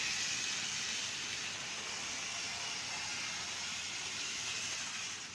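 A restored Bachmann E60CF model electric locomotive runs on its track, giving a steady, even hiss-like whir that holds at one level throughout with no voices.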